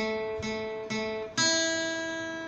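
Three plucked guitar notes ring out one after another, the last a higher note that sustains, clean and close with no talk.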